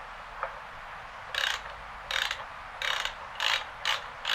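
Several bursts of ratchet clicking as bolts are loosened during a Logitech G900 mouse teardown, each burst a quick rattling run, close and fairly quiet, with short pauses between.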